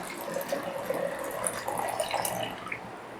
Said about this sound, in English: Okay, so now the bleaching process is completed, so I'll pour out the bleach.